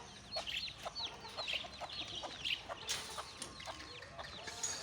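Several young desi chicks cluck and chirp softly in overlapping, irregular calls, fairly faint against a low background hum in a poultry farm.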